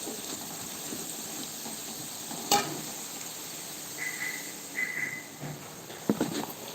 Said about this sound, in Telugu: ఇలా కలుపుకుంటేనే ఏ పీసెస్ కా పీసెస్ ఫ్రై అయిపోతుంది బాగా